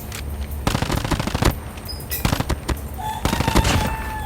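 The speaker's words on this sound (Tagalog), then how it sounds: "Ang Cord Light ay isang pinakamalakas na diratrat dito sa CODM." Automatic gunfire rattles in Call of Duty Mobile, with several loud, close bursts of rapid shots broken by short pauses and clinking effects.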